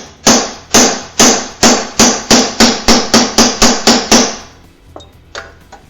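A hammer strikes a die to rivet pinball machine ball guides, a dozen sharp metallic blows in a steady rhythm that quickens slightly, loud and close, then a few faint taps.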